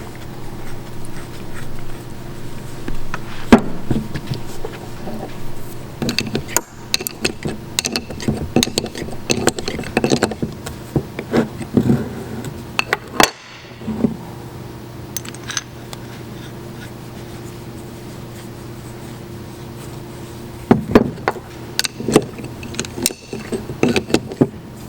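Hydraulic valve parts, including load checks, being put back together on a lab bench: scattered metallic clicks, taps and clunks over a steady low hum, with a brief lull midway and no talking.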